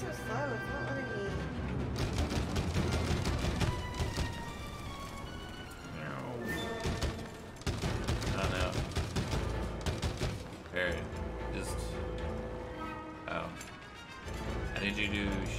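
Gunfire from a player shooting gates open in the co-op video game It Takes Two, rapid shots and mechanical clatter mixed into busy game music, with people talking over it.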